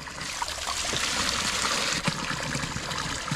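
Steady rush and trickle of a mountain stream flowing over rocks near Nagi Baharai Than in Myagdi, Nepal, a close, continuous wash of water with no voices.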